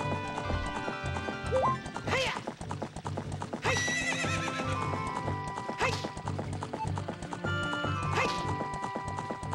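Epona, the horse in The Legend of Zelda: Ocarina of Time, gallops with steady rapid hoofbeats over game music, and several loud whinnies break in along the way.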